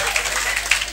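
Brief burst of classroom clapping from a group of students during a chemistry lesson, a dense patter of hand claps lasting about a second with no clear talk over it.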